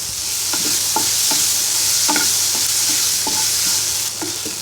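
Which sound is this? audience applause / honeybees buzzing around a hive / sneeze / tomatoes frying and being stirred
tomatoes frying and being stirred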